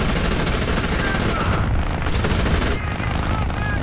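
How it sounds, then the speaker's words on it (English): A Marder A1 in the War Thunder video game fires its machine gun in dense, continuous rattling bursts with a brief pause, close and loud. "Let's check that booty so that I can aim my machine gun at this guy."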